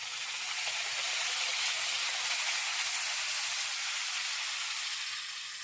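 Tomatoes, green chillies and ginger-garlic paste hit hot oil in a frying pan, giving a steady, loud broadband sizzle and hiss that holds evenly throughout without any talking.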